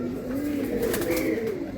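Giribaz pigeon cooing close by, a low, steady throaty coo with a rising and falling warble that continues without pause.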